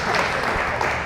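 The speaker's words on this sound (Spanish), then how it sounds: "un aplauso por favor para recibir a Ileana" An audience claps to welcome a speaker at a talk, a dense, even burst of applause filling the room for about a second.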